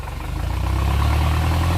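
A Ford 6640 tractor engine runs steadily in second gear near a rubber plantation, a loud, deep, continuous diesel throb that stays even throughout, with no talking.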